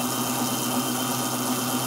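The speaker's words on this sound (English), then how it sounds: "The only noise you hear is a little DC motor right there that we use, the chain drive motor." Small DC chain drive motor running on a 10 kW off-grid hybrid generator system, a steady close hum with a constant low tone and faint vibration, no talk.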